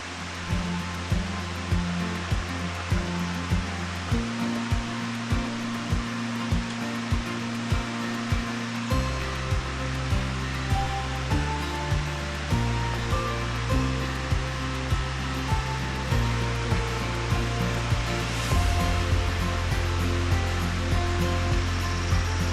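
Waterfalls on the Walls of Jericho trail in a rocky, wooded setting give a steady, broadband rush of falling water throughout, with rhythmic low thumps underneath and no talk.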